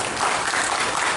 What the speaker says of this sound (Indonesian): Tepuk tangan untuk panitia ini.